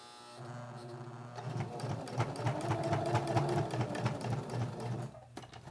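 A domestic sewing machine topstitches a pocket pen holder with elastic, its motor whirring and needle chattering in a steady rapid rhythm for several seconds before stopping.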